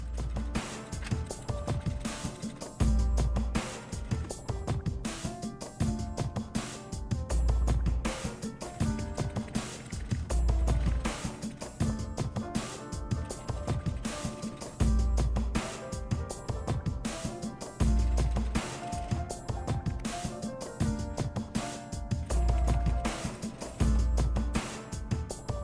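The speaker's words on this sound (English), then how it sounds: "now we will go to the machine and we will top stitch right here." A sewing machine top-stitches a Halloween bag in a steady rapid rattle, pausing briefly in regular bursts between runs of stitching.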